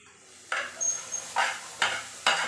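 Shallots are stirred in a hot pan with popped mustard seeds while cooking a red spinach stir-fry: four distinct scraping sweeps about half a second apart, each with a brief sizzle, fairly close and quiet.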